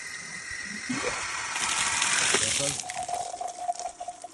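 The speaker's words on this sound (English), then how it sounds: "We will start to fill with water." Water rushes and splashes as it fills an STF Ebro automatic screen filter housing, rising in force then tapering into a thinner trickle with gurgles.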